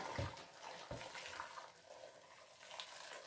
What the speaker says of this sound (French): سأصب عليه الماء وأضعه فوق النار حتى